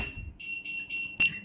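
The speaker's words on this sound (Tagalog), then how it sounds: "Uy, nag-alarm na." A kitchen timer alarm goes off while sourdough bread bakes, giving a few shrill, high electronic beeps in short bursts with a sharp louder chirp near the end, fairly close and alone.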